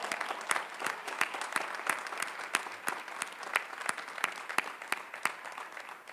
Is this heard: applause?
yes